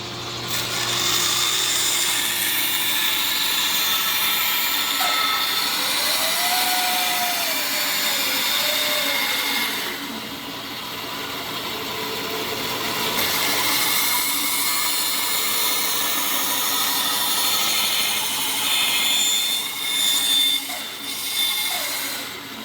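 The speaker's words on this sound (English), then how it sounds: "take that over to the bandsaw." A bandsaw hums and whines continuously through wood for over twenty seconds, its pitch dipping and rising as the cut progresses, with no talking.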